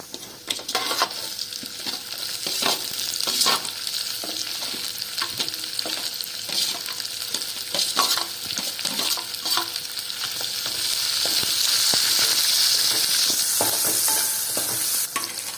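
Onions fry in a pan and are stirred repeatedly, a continuous close sizzle punctuated by frequent utensil scrapes and clicks, growing slightly louder toward the end.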